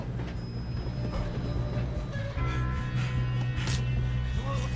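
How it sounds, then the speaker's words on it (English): A moving train rumbles and clatters along the tracks in the Red Dead Redemption 2 video game. A steady low rolling drone runs throughout, with metallic squeals and clanks on top, fairly quiet overall. "Come on, we need to stop this train."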